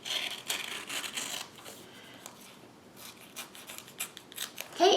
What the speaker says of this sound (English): So I'm just going to trim around.